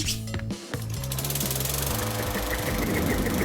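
A powerful propeller engine runs steadily, a loud, close mechanical drone with a rapid, rattling knock throughout, heard on its own without talk.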